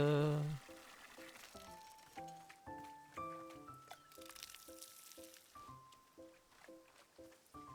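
Water pours onto a freshly planted green seed in the garden game Wanderstop, a soft liquid splash at the start followed by gentle, chiming game tones stepping along in an even rhythm.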